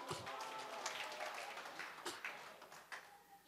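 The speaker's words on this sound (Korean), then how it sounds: "박수 한번 주시지요 박수" Audience at a Korean university lecture breaks into scattered, uneven clapping, a series of close sharp taps spread across the moment, with voices mixed in.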